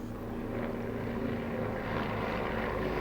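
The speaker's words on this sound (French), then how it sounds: "Il y a le bruit de il y a un hélicoptère qui passe littéralement au-dessus de ma baraque" A helicopter passes directly over a house, a steady low rotor and engine drone that holds throughout, with no talk.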